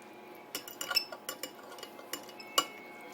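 A utensil stirring grated pecorino into chicken spaghetti sauce, giving quiet, irregular clinks and scrapes against a pot or dish, with a few sharper taps, heard close and alone.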